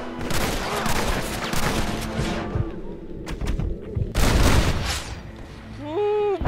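Rapid bursts of gunfire aimed at the player at night in Red Dead Redemption, with repeated cracking volleys and loud booms that come close together and are broken by short gaps, ending in a brief tonal game sound.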